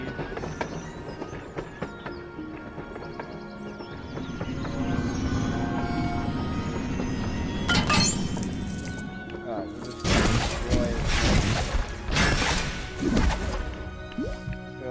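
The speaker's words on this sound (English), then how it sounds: "Oh, see the train leave." A train pulls away from a station in the LEGO Harry Potter video game, with loud rattling clatter and crashing thumps building over several seconds, set against a busy game soundscape.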